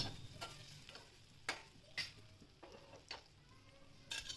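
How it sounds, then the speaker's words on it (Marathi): Green chilies with coriander and red chili powder sautéing in a pan make a low, even sizzle, punctuated by regular sharp clicks of a spatula knocking and stirring against the metal. "हिरव्या मिरच्या चांगल्या परतून घ्यायच्या"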